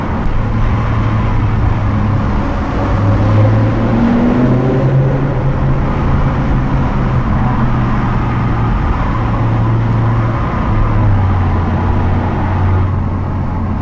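BMW M6 sports car engine in the Val Verzasca valley, heard as a steady, deep, rumbling drone that holds for about fourteen seconds with slight pitch shifts, and no talking.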